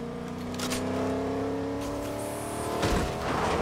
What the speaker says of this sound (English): Someone is coming in with a car.